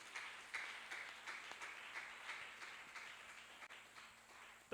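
Church congregation applauding in praise, a steady patter of many hands clapping together, fairly faint and distant, lasting several seconds.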